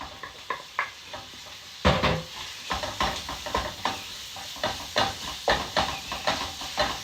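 Ground meat is mashed into tiny bits and browned in a pan for stuffed peppers, with soft sizzling under repeated close scraping and stirring taps of a utensil.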